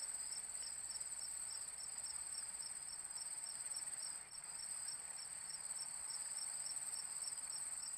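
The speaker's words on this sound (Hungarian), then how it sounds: "Kabócák." Cicadas in the horror video game DreadOut keep up a dense, steady, high-pitched pulsing drone, continuous and alone without talk throughout.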